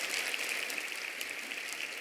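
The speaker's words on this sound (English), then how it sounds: "I knew you were going to get clapped for that" Studio audience applause during a women's forum interview, steady broadband clapping throughout at moderate level with no talk over it.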